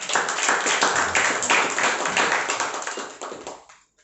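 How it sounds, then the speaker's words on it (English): An audience at a speakers' forum claps for a speaker, a close, crisp burst of many hands that holds steady, then thins and fades out near the end. "I think he deserves a huge round of applause."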